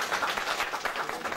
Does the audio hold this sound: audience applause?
yes